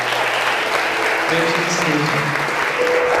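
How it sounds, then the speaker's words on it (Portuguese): Applause from a congregation at a Catholic charismatic prayer group meeting, a dense, steady clapping that fills the room throughout while a voice speaks briefly over it. "Vamos aplaudir isso."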